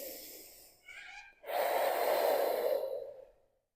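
Nasal breathing during a hip and lower back exercise class: a soft inhale and a short pause, then a louder, longer exhale through the nose that fades out, close and alone.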